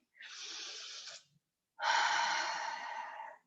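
Two slow, audible breaths are taken close up during a yoga pose, a shorter exhale followed by a longer, stronger one, with silence in between.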